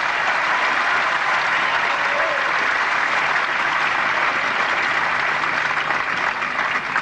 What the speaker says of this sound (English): And a great cheer from the crowd there when Hana broke serve.